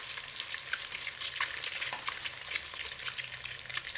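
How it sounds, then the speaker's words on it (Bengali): Eggs fry in hot oil for an egg and potato dish, giving a steady, close crackling sizzle with small pops and bright spits throughout, no voices. "এখানে কিন্তু বন্ধুরা এই ডিমগুলো ভাজতে খুব বেশি সময় লাগে না,"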